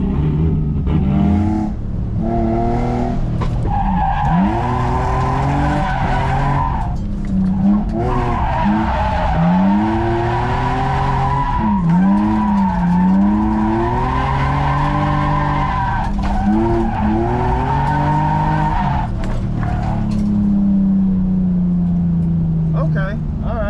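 Drift cars at a drift event scream through long, rising and falling engine revs with squealing, skidding tires, loud and continuous, while people talk over the noise.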